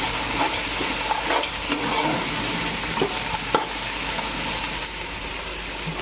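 Cashews fry in hot oil in a pan while mutton biryani is being cooked, giving a steady loud sizzle with scraping stirs and small crackles throughout.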